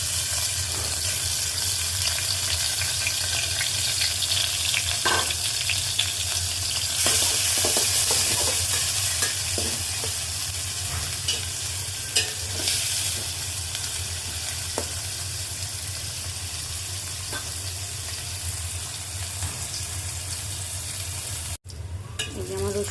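Chopped garlic and onion frying in oil until browned, a steady close sizzle with a low hum beneath and scattered utensil clicks, brightening briefly partway through.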